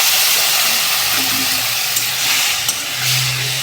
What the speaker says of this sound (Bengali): মশলাটা ভালো করে কষানো হয়ে গেছে, এবার আমি একটু জল দেবো।